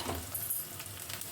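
Ground chili paste sizzles softly as it drops into a hot oiled pan while cooking Bengali kochur loti (taro stolons), a short, quiet frying hiss with light crackle and no talk.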